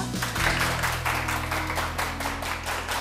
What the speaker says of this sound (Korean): 김남규 대표님을 큰 박수로 환영해주세요